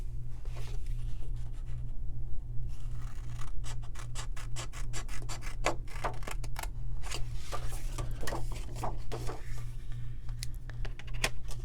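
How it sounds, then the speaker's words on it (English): Scissors snipping through a piece of thin stencil sheet, a series of close, dry cuts and scratchy rubbing over a steady low hum in the room. "I'm going to cut off a piece here"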